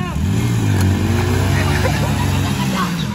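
Tractors starting up ahead of a tractor tug-of-war (tochan), their diesel engines rumbling steadily and loudly close by, with people talking over the engine noise throughout.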